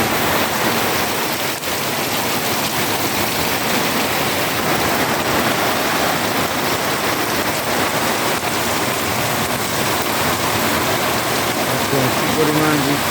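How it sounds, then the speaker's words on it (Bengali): Heavy rain pours steadily during a spring storm in Bangladesh, a dense, loud, continuous hiss of downpour that fills the whole stretch with little variation. "দেখুন কি পরিমাণ বৃষ্টি হচ্ছে, ঝড় তুফান।"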